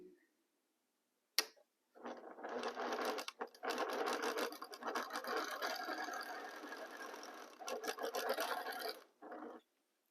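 A sewing machine stitches fabric in a fast, even mechanical rattle, loud and close, starting after a click and running steadily for several seconds before stopping, then a brief final burst.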